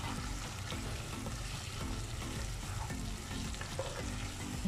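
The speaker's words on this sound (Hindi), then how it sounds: "कम से कम बारह से तेरह कड़ी पत्ते हम इसमें डालेंगे और उसके साथ थोड़ा सा इसको भूनेंगे" Curry leaves sizzle with chicken in hot desi ghee for a ghee roast, a dense, continuous crackling fry with stirring, loud and close the whole time, with no voices.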